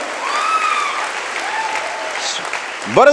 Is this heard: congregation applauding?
yes